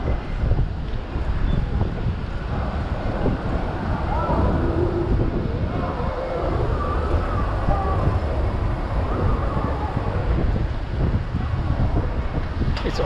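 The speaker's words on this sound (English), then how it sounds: "Really is windy." Strong wind blowing near the sea at night in Durban, a loud continuous buffeting rumble across the microphone throughout, with faint activity in the background.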